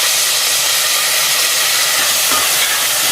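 Field beans (avarekalu) are dropped into hot ghee tempering with curry leaves and dried red chillies, giving a loud, steady broadband sizzle and hiss throughout, with no talk.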